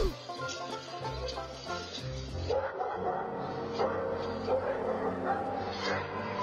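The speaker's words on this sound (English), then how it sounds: "This daredevil didn't count on two guard dogs who were trained to defend their property." Two trained guard dogs bark at an intruder on their property, a series of loud, close yips and barks over music and background noise.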